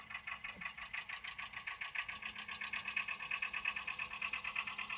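A PIKO HO scale Whitcomb 65-ton diesel model locomotive throttles up. Its soft, rhythmic motor whine pulses steadily and grows a little louder, faint and close, with no one speaking.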